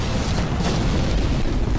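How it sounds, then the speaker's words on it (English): A huge laser-guided bomb blast in the video game Mercenaries 2 roars as a loud, dense rumble that fills the whole stretch without a break. "That is a really big friggin' explosion."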